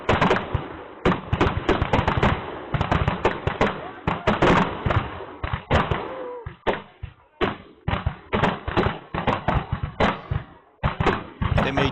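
Revolver shots fired at 6-inch tiles from 12.5 yards at a spring revolver competition: a long run of sharp, rapid cracks, often in quick clusters with brief gaps, loud and continuous throughout.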